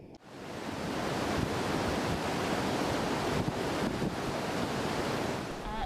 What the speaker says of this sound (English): we're at a moulin where water's flowing from the surface of the glacier down to the bed